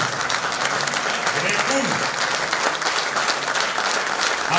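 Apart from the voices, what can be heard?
audience applause at folk concert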